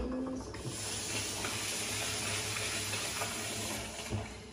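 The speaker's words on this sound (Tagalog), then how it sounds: "Before putting to the boiling water, need to wash first the rice because sometimes dirty" Rice is swished and rinsed in a bowl of water before cooking, a soft, continuous watery sloshing and hiss at low level, with no speech.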